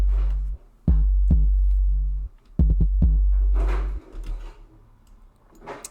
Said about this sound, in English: And then these are the kicks and 808s.